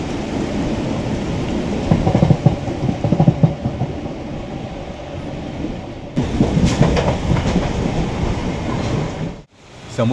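A suburban train runs on rails in Navi Mumbai during heavy rain, a steady rumbling roar with clattering wheel bursts and a brief dropout near the end, no talk.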